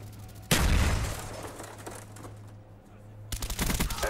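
Rapid gunfire bursts and a loud blast erupt in a shooter video game as a frag grenade is thrown, the firing dense and loud at first, easing off, then resuming in sharp bursts.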